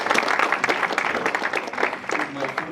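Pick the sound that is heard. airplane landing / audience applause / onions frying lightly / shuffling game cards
audience applause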